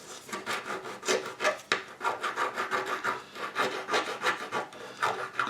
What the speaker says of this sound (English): Little needle filing here.